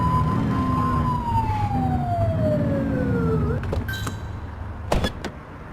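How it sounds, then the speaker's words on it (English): A police car siren blips in the video game The Precinct: one electronic tone sliding steadily downward for a few seconds over a low engine rumble, followed by a couple of short clicks and thumps. "Get behind them and blip the siren to make them pull over."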